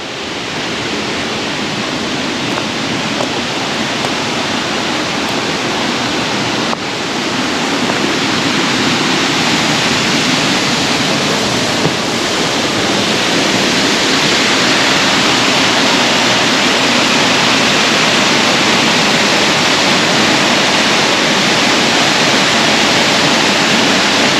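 A waterfall on a Poconos hiking trail roars in a steady, dense broadband rush, loud and close, with no pauses and no voices over it.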